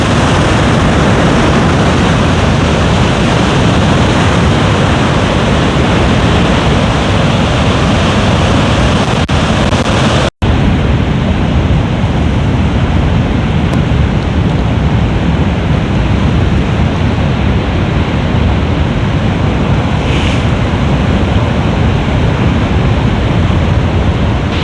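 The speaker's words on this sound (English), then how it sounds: "I love coming to watch the waves here." North Sea waves breaking on the coast at Seaham beach beside the harbour wall, a constant loud roaring wash of surf with wind noise, steady throughout with one brief cut partway through.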